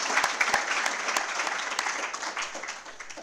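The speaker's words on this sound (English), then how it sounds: "Let's give them another round of applause" Conference audience applauding presenters after a set of talks, a steady dense patter of many hands clapping throughout at moderate volume, with no speech over it.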